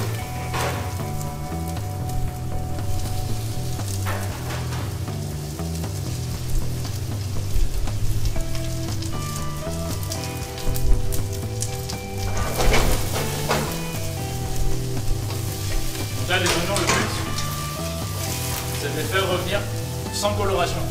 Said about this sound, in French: je vais pouvoir vraiment bien faire sauter mes oignons